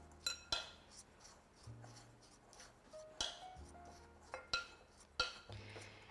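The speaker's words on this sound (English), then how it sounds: "we're just going to stir this together just so that we don't have any like baking soda clumps" A spoon stirs dry crumble-bar mix of baking powder and cinnamon in a bowl, giving soft scraping strokes and light clinks against the bowl, faint and close, repeated in an uneven rhythm.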